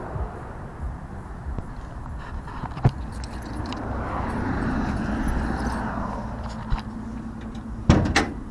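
A Plymouth Fury car door is handled, with light rattles and clunks, then a solid thud as it shuts near the end, close by, with no talking.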